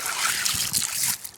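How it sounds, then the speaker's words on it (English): A screen shaken in creek water so sand sifts through while hunting geodes near Kimmswick, Missouri; steady close sloshing and trickling water with gritty washing, continuous and moderately loud. "all the sand goes through the screen when I shake it in the water"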